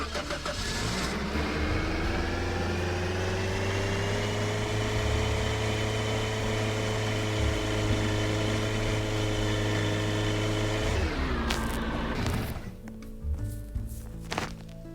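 A vehicle engine runs steadily and loud as it moves off, its tone holding even and then dropping away near the end, followed by a few thumps and clatters.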